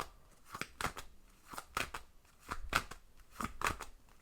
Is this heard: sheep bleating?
no